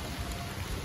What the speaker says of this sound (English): And it's raining, it's a wet year.